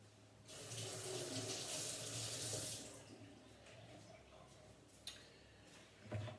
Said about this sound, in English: I'm gonna give them a little rinse